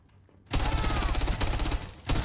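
Rapid, loud bursts of automatic gunfire in Counter-Strike on the map De_train erupt after a quiet moment, sustained and crisp, with a brief pause before another burst at the end.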